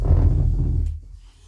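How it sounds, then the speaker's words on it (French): A chair creaks and groans indoors, a close, low rumbling strain that lasts about a second before fading away, with no voices. "Je suis désolée pour le bruit, c'est ma chaise."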